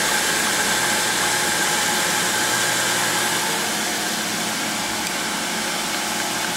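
Tormach PSG6 grinder drive wheel spinning with no belt fitted, a steady broadband whir with a faint hum, even and continuous at close range with no rattling.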